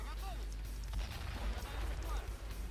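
Mortar fire thuds in a Men of War video game battle, deep low booms and rumbling impacts repeating under a busy layer of combat noise while a voice talks over it.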